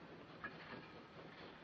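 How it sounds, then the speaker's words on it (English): A train in a 1940s thriller set on a night train to Munich rolls along at a steady, moderate loudness, with a continuous rumble and rattle of the rail cars and no voices. "The train is leaving."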